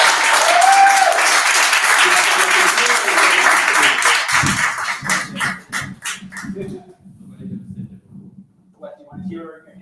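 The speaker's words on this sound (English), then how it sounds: "Let's have a warm, good round of applause for Reggie Gaines." An audience applauds a poet at a poetry festival, steady loud clapping filling the room for about four seconds before thinning into scattered claps as voices and stage chatter take over.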